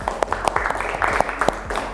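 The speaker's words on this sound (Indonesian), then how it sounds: "Tepuk tangan dulu dong untuk kelas kalian" A school history class claps for itself: sharp, uneven hand claps patter quickly and closely for a moment, with no one speaking.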